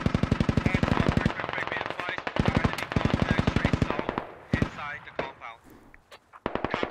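Rapid automatic gunfire in the SquadOps military shooter, a loud close burst of evenly spaced shots that stops, starts again, then gives way to scattered single cracks, with voices talking over it.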